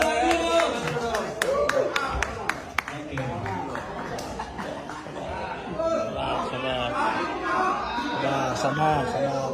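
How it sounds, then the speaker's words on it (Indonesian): A press-conference crowd in Indonesia, gathered ahead of a celebrity boxing match, breaks into scattered clapping early on, with a few sharp claps that fade into busy chatter, laughter and overlapping voices. "Tepuk tangan dulu dong buat"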